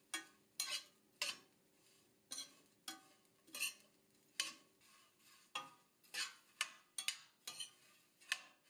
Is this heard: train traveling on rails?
no